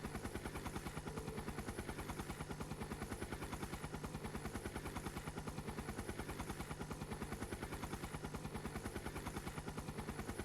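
In Trails of Cold Steel IV, a flying archaism machine drones with a rapid, regular rotor-like thudding that beats evenly without a break, fairly quiet but constant throughout.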